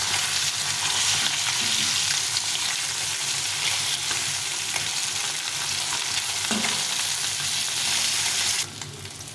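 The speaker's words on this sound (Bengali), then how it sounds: "প্রথমে তেলটা গরম হয়ে গেছে, মাছগুলো একটু কড়া করে ভেজে নিতে হবে" Rohu fish frying hard in hot oil in a home kitchen, a steady dense sizzle running loud and close throughout with occasional stirring clatter, no voices over it.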